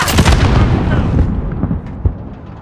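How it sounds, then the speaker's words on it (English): Heavy airstrike explosions in a Call of Duty-style shooter, a loud rumbling barrage of blasts that fades after about a second, followed by a few scattered distant pops and thumps. "Airstrike on the way."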